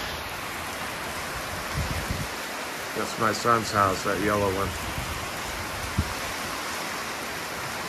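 Steady rain pours during a severe storm, a dense hiss heard from inside a garage, loud and constant, while someone speaks briefly over it.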